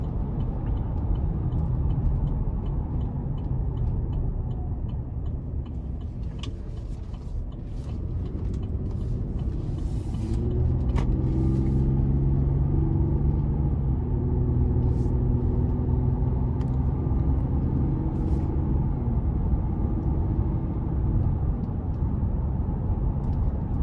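A 2021 Chevy Colorado LT pickup with the 3.6 V6 accelerates under steady throttle, a low engine rumble building and easing as it shifts through gears, heard from inside the cabin with no talking.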